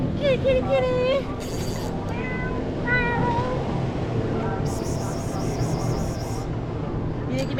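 A cat aboard a Florida saltwater fishing boat gives several short, rising meows at close range, and people talk around it over the background hum of the boat.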